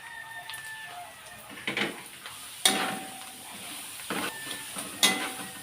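Green beans go into a pan for lumpiang gulay vegetable filling and get stirred, bright clattering spatula scrapes and light sizzle in a few bursts, no voices.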